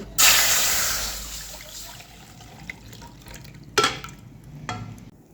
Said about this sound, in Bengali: চুই পিঠাগুলো সুন্দরভাবে ভেজে নেওয়া হয়ে গেছে এগুলোকে এখন আমি তুলে নেব একই প্যানেই আমি দিয়ে দিচ্ছি দুধ